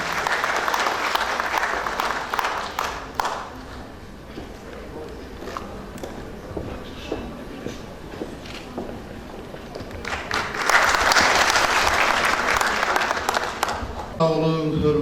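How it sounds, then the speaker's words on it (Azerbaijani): A seated audience at a formal ceremony applauds a guest being invited to speak, a sustained wash of many hands clapping that swells strongly toward the end before a voice begins. "Sizin alqışlarınız var."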